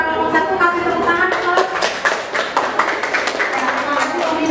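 Classroom applause after a group presentation: steady, dense hand clapping from many students, fairly close and sustained throughout, with no talk over it.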